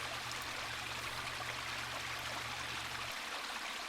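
Steady running water in the video game Ever17, a continuous broadband stream rushing evenly with no voices, a low hum underneath that cuts out near the end.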